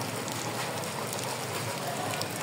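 Steady rain pouring onto a road, a dense, even hiss of countless drops close by with no pauses, filling the whole moment without voices.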